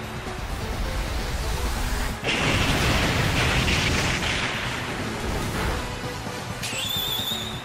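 Large, loud explosion sound effect from the Pokémon Explosion move in Pokémon Sword and Shield, a sustained roaring blast that swells after a couple of seconds and rumbles on for several more, ending in high electronic tones.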